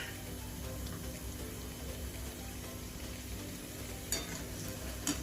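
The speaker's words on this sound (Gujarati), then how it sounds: "આપણે કચોરી તળી લઈશું." Kachori frying in hot oil over a low gas flame, giving a steady, soft sizzle with a few brief clinks of utensils near the end and no voices.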